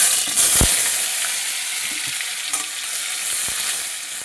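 Green banana pieces frying in hot oil in a pan for a vegetarian fenugreek and cashew curry, a steady close sizzle with a few brief stirring clicks and scrapes.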